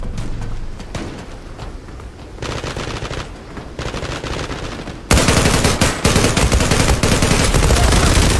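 Dense bursts of rapid automatic gunfire crackle almost nonstop in a Zula video game match, growing sharply louder and harsher in the second half.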